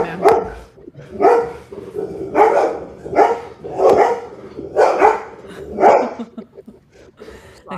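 A dog barks at the mailman, about eight loud, close barks coming in a steady rhythm roughly once a second.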